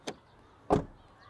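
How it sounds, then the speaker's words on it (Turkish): Two car door closures on a 2025 TOGG T10X electric SUV: a faint, light click, then a louder, solid thud about half a second later. Both are close by and nobody speaks. "Kapı sesini dinleteyim size."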